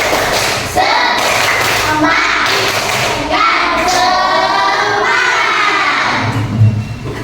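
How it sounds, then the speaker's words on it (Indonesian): A class of sixth-grade primary school children does the rhythmic "tepuk semangat" spirit clap together, loud and close, with shouted chanting voices over patterned clapping throughout. "Tepuk semangat."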